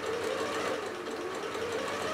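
A sewing machine runs a straight stitch down the seam of a fabric face mask, a faint, even mechanical hum with a fast, regular rattle, alone and unbroken.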